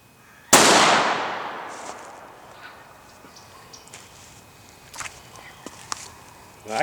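A single loud, sharp gunshot from a .38 Special snub-nose revolver firing a Federal 110 grain jacketed hollow point Hydra Shok round, cracking outdoors and decaying over about a second, followed by faint scattered rustles and footsteps.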